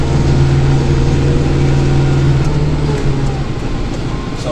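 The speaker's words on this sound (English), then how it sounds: "that way we can start up the snow blower" A snow blower's engine runs steadily and loud, with a constant droning hum and a slight shift in pitch toward the end, heard up close with no talk.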